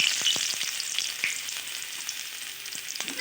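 Chopped garlic sizzles steadily in hot oil with cumin and cardamom, with a dense continuous hiss broken by scattered clicks from a stirring spoon.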